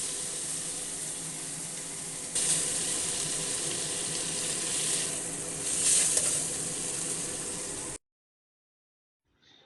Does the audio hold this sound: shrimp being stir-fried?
yes